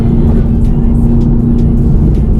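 Car engine revving hard and loud in a racing game, a dense, steady drone that fills the whole moment, up close and alone with no talk.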